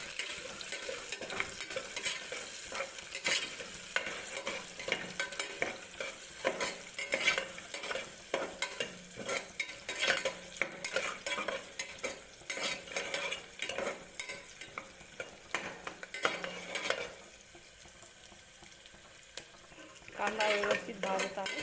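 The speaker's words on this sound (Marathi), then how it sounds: "आता यामध्ये आपण कांदा फोडून टाकणार। कांदा लालसर होईपर्यंत भाजून द्यायचा।" Chopped onion sizzles in a pan while a spoon stirs it, scraping and clinking against the metal in a busy, irregular rhythm, close and moderately loud, with a brief pause near the end before stirring resumes.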